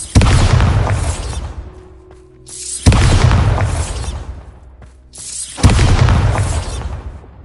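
Bombarda spell explosions in Hogwarts Legacy on PS4: three loud booming blasts roughly three seconds apart, each with a crackling burst that decays into rumble.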